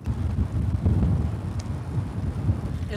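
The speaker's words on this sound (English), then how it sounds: "Is the wind giving you any trouble?" Wind blowing across a microphone beside a road during the RAAM cycling race in Missouri, a steady low rumbling buffet that stays loud for the whole stretch with no voices.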